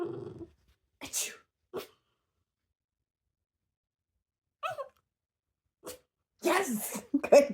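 A Border Terrier gives several short, sharp sneezes on command, spaced out with long quiet gaps between them. A person's voice is heard around the sneezes and may imitate a sneeze as the cue.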